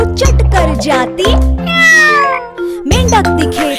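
A singer in a Hindi children's song imitates a cat, voicing repeated melodic meows over bright backing music, the voice loud and close.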